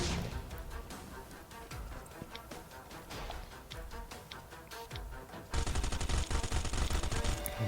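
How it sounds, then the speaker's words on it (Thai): Dense, rapid gunfire in the video game Last Island of Survival rattles continuously, a steady barrage of shots that grows louder and harsher near the end. "เสียงปืนมาเป็นระยะเลยทุกคน"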